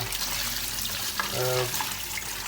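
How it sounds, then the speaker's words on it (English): Tap water runs steadily over raw lobster and prawns being rinsed in a sink, a continuous close splashing wash, with a brief voice partway through. "we rinse them off"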